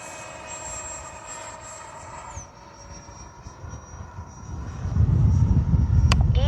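Freewing F-22 80mm EDF RC jet in flight, a thin whine that dips as it passes, then a louder rushing roar building near the end.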